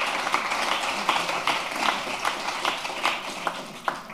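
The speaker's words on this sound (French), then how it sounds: "Je pense qu'on peut applaudir chaleureusement" Audience applause after Professor Daniel Rigaud's lecture in Strasbourg: a steady wash of many hands clapping at moderate volume, with scattered sharper claps standing out from the dense, continuous patter.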